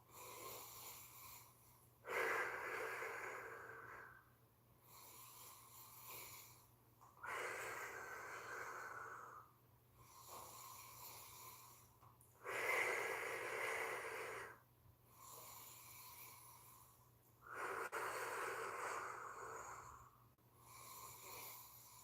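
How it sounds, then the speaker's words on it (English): Deep rhythmic breathing from a breathwork exercise, with about five long, loud breath cycles separated by short pauses; each breath has a noisy, rushing, snore-like rasp. No one speaks. "Now for the final five, I'm going to do straight arm and back and forth doing the 5 breath works."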